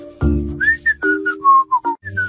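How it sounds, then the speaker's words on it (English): A person whistles a short, bright tune of several sliding notes, close and clear, with low background hum. "Who's that kid that's whistling?"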